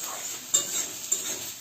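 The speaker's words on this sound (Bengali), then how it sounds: "নাড়াচ্ছি, তার কারণ হলো যাতে পেঁয়াজটা পুড়ে না যায়" Onions frying in a home kitchen pan as they are stirred, a soft steady sizzle with two brief scraping clinks of the spoon against the pan, close and fairly quiet.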